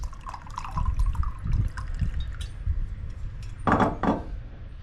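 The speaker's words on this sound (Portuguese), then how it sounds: "Vou largar uma água gelada aqui." Iced water is poured into a cement pot mould, giving irregular splashes and trickles with a few knocks and clinks, then a louder splashing burst near the end.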